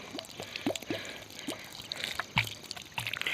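Water poured in small repeated splashes onto the soil around a newly planted tree in a farm field, with several wet drips and trickles close by, fairly quiet, and no talking.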